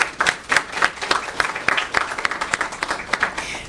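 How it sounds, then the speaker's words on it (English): Applause for city council members at a Riverside civic event opening a recuperative care center, a dense run of claps from a crowd filling the whole stretch at steady loudness. "please give them another round of applause."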